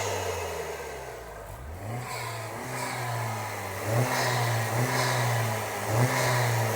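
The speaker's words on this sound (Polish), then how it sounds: "pod maską, gdzie mocno słychać zawór upustowy" Honda Civic Type R 2.0 turbo engine revving up and dropping off several times, with short releases from the blow-off valve as the throttle lifts, heard fairly close and without talk.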